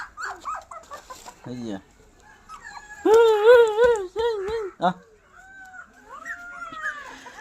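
A puppy whimpers and lets out high, thin yelps in a short, close burst, with people talking around it before and after.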